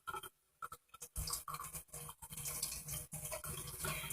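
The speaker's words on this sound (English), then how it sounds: "So I'm going to rinse it out now." Makeup brush rinsed under running water after washing with brush and sponge shampoo, giving close, quiet splashing and scrubbing bursts broken by short pauses, with no one speaking.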